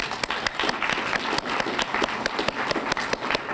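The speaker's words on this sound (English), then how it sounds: "This is the gentleman that I want you to recognize and applaud" A lecture audience applauds a recognized guest at a STEM academy event, dense, sustained clapping filling the room with sharp individual claps standing out.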